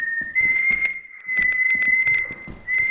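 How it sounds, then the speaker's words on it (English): Loud, steady whistling of a single sustained pitch during a Lethal Company VR game session, broken by brief pauses, with thumping footsteps and handling knocks underneath. "Can you not whistle? That's loud as shit"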